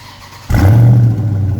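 A 2019 Dodge Charger 392 Daytona with active exhaust fires up abruptly into a loud, deep rumbling roar close by, settling into a strong idle with no talking.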